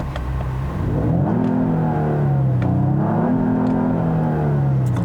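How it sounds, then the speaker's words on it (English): Twin-turbo 3.5-litre engine of a 2021 Genesis GV80 luxury SUV in sport mode revving, a close, loud, smooth engine note that rises and falls in pitch across two swells, with no talk. "Let's take a listen to the engine."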